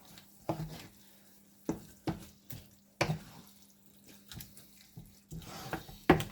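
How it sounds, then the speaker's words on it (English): Empty cans rinsed under a running kitchen tap for recycling, with sharp metallic clunks and knocks against the sink at irregular intervals over a faint, steady trickle of water, close by and with no talking. "I've got to rinse them all out, though."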